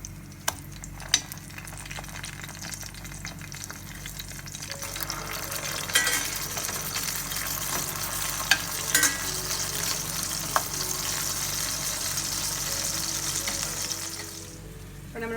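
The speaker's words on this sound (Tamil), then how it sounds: "இது 2 சைடு இப்போ ஃப்ரை ஆனதுக்கப்புறம் எடுத்துடலாம்." Chicken burger patties fry in a pan with a steady, crackling sizzle that grows busier partway through, punctuated by a few sharp clicks and spatters, and then quietens near the end, with no talking.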